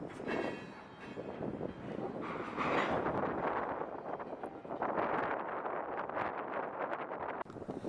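A locomotive rumbles slowly nearby, reversing to couple onto a car on a winter day, with low mechanical drone, while gusty wind buffets the microphone throughout.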